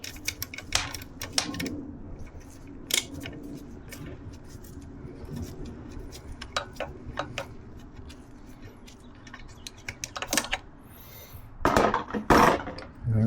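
Worn screws being worked loose on the rear brake of a Moto Guzzi V85TT motorcycle during a brake bleed: scattered small metallic clicks and taps of tool on fastener, sparse and close, with a louder rattling cluster near the end.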